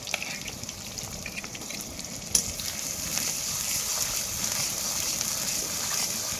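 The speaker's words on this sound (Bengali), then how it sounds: "পেঁয়াজটা ভাজা হোক" Chopped onions frying in a pan for a home-style pulao and chicken dish, giving a steady soft sizzle and hiss that runs throughout, with one brief clink partway through and no talking.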